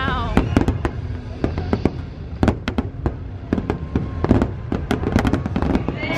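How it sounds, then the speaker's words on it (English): Halloween party fireworks burst over Disney World, a rapid irregular string of sharp cracks and booms echoing across the park, some in quick clusters, heard from the crowd with faint voices underneath. "So we just saw the fireworks show for the Halloween party."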